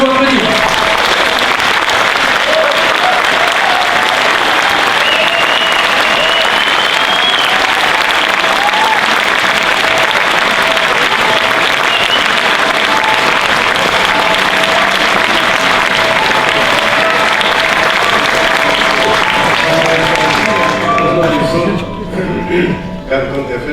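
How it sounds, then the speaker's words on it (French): Sustained, dense applause from a large festival audience at a tribute to Alejandro Jodorowsky, steady and loud throughout, with a few voices mixed in before it tapers at the end. "Vous pouvez de nouveau applaudir."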